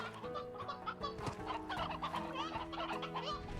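Chickens in the Slime Rancher video game cluck steadily in a busy overlapping chorus over continuous background game music.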